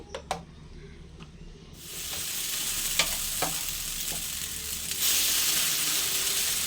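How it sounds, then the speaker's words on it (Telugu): Batter for soft dosas, made without urad dal flour, is spread evenly and thickly on a hot pan. A few utensil taps come first, then a steady hiss rises and grows louder as the batter sizzles. "ఇలా దోశ వేసుకుని ఈవెన్గా మందంగానే వేసుకోవాలండి"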